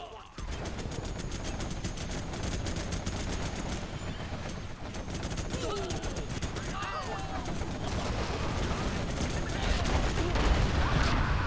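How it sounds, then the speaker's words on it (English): Carpet bomb explosions in the real-time strategy game Generals Evolution during a 3v3 battle, a dense rumbling barrage of blasts mixed with crackling gunfire, building louder toward the end with a voice talking over it. "Carpet bomb is insane"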